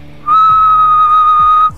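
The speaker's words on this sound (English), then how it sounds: "And you can see when I whistle" A person whistles into a microphone, a single steady pure tone held for about a second and a half, loud and close, with faint low background hum.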